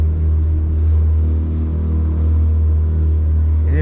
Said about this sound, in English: that motor's turning real fast like that